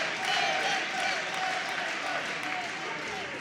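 A boxing arena crowd roars and cheers continuously at moderate distance, urging a fighter on during a hard bout, with a commentator's voice running over the noise.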